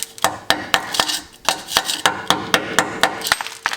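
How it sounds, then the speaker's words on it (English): Repeated sharp hammer blows on a metal nutsert in a Jeep frame, struck in a fairly steady rhythm about four times a second, close and loud with no talking. "Let's see if I can hit that with a hammer or a chisel or something."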